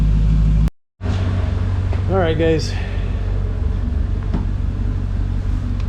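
A Mercedes C55 AMG engine, fitted with a new exhaust and still cold, idles with a steady deep rumble close by. It cuts out briefly near the start, and someone speaks a few words over it.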